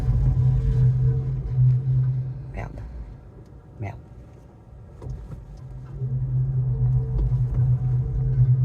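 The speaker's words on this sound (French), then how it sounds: "mon auto fait un drôle de bruit" A car on a forest road toward a lake gives off a strange, steady low droning hum that rises and falls over several seconds, with a brief knock or clunk partway through and a man swearing under his breath.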